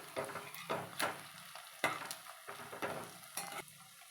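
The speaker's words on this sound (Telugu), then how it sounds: "బీట్ చేసుకున్న ఎగ్స్ని ఇందులో వేసుకొని ఆమ్లెట్స్ లాగా వేసుకోవాలి ఇలా ఒకవైపు బాగా కాలాక టర్న్ చేసుకోవాలి" Beaten eggs fry like an omelette in hot oil in a pan, a soft sizzle punctuated by several distinct scraping strokes of a spatula at irregular intervals, close and moderately quiet.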